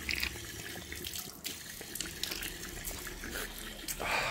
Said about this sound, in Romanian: Izvor de apă minerală.